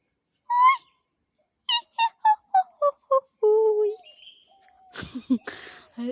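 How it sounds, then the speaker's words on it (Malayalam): A hornbill calls in a quick run of short, evenly spaced honking notes, then a longer drawn-out call, followed by faint rustling and scattered bird sounds. "വേഴാമ്പലിൻ്റെ ഒച്ച കേട്ട് പോയി."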